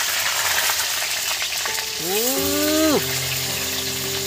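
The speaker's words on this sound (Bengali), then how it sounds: "এইগুলো এবার তেলের মধ্যে ওহ, আমি সেই তেলেই একদম ছেড়ে দিচ্ছি। একই তেলে চলছে।" Pumpkin pieces fry in hot oil with a loud, steady close sizzle, and a drawn-out vocal tone rises and holds over it partway through.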